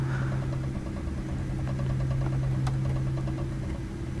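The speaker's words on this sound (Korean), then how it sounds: "이제 엔진 소리도 한번 들어보고요" Engine noise from a Boeing 787 fills a Japan Airlines business class cabin near row 8, heard as a steady low droning hum with faint vibration throughout.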